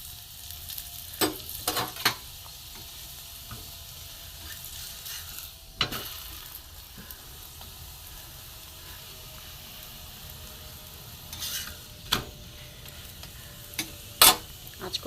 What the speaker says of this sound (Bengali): এপিট ওপিট করে ভেজে নিয়েছি আমি হালকা তেলে